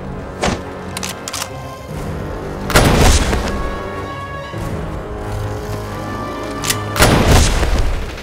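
Heavy gunshots boom out loud and close, a few big blasts spread across a noisy comedy-film action scene with rumbling background clamor.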